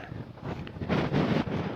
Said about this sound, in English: it gets so windy up there